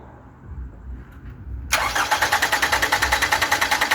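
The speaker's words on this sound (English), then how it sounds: "So you're going to crank the engine over." A Toyota Camry engine cranks in a rapid, even rhythm of starter pulses after a low rumble of quiet idle-like background, loud and close, with no talking.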